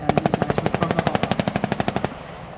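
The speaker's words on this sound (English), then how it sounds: "The AH is now conducting a 30mm cannon engagement from the hopper." A Tiger attack helicopter's 30mm cannon at an Australian Army firepower demonstration fires a rapid burst of about twenty evenly spaced, loud, booming shots that stop abruptly, leaving a short fading echo.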